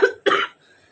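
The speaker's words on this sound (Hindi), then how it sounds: "सॉरी बहुत ज़्यादा मेरे खांसी हो रही है" A woman suffering from a bad cough lets out two quick, harsh coughs close to the microphone, then goes quiet, with no speech over them.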